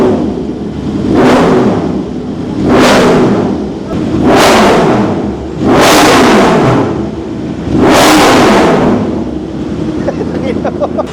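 A Yamaha R1 WGP superbike with a remapped ECU revs five times in a steady rhythm, each throttle blip rising sharply and falling away with a deep, loud exhaust roar and crackling pops as it settles.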